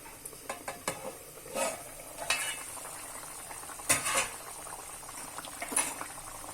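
Egg masala curry gravy boils in a pan with irregular bubbling pops and spits over a low, quiet background, some bursts louder than others.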